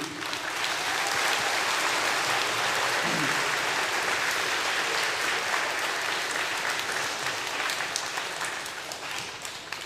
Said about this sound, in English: So I want to applaud all of you before we go on, please.